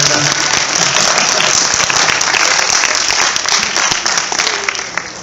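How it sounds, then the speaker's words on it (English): Audience applause at a high school after-prom party, loud and sustained, with voices and cheers mixed through the clapping before it eases off near the end. "Give him a nice round of applause."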